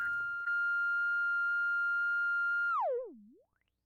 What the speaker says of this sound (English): And now you can hear it's self-oscillating.